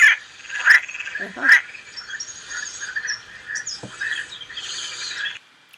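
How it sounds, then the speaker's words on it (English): Mountain chorus frog calls: a few short, bright, rising trills repeated at intervals, close and fairly loud, with fainter insect and bird sounds behind them. "this is a close-up picture of a mountain chorus frog and his throat"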